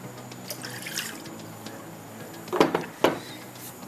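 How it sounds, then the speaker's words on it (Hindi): Water poured into a bowl of besan batter for a salan, a few faint trickling splashes near the end over low kitchen background. "थोड़ा सा और पानी ले लेते हैं हम इसमें।"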